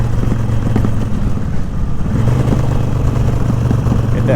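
A sport bike engine growls loud and close, with a rough rumbling note that rises and dips as the rider downshifts on a gravel-strewn road.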